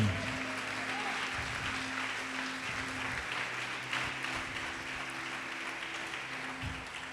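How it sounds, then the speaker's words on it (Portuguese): A church congregation applauds during a worship service, producing steady, dense clapping that carries on evenly and continuously throughout. "Pode aplaudir e glorificar o Senhor, irmão."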